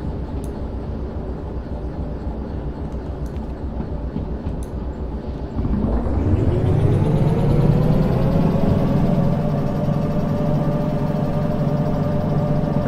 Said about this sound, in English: we're going to fire the engines up again